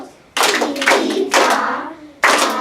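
Second graders clap a rhythm together in a classroom, a few sharp, loud group claps set apart by short gaps, close and without talk.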